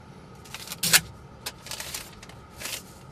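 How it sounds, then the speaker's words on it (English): Digital tachograph printing a daily printout as the driver card ejects, a faint mechanical whirring and clicking under steady background hum, with one sharper click near the start. "A printout of your day will start and the card will then eject."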